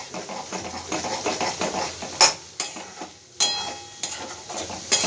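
Kashmiri chili powder and salt stirred into a frying spice paste in a pan, a steady soft sizzle under scraping spoon strokes and occasional sharp clinks of metal against the pan, with no talking.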